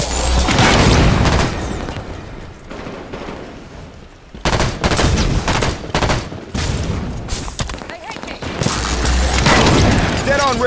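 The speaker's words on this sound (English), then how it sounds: "Dead on railgun shot." Heavy, booming weapon fire in Halo 5 keeps going, with repeated sharp blasts over a dense, noisy game mix and talk running underneath.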